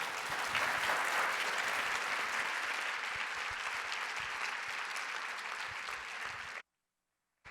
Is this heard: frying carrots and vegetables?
no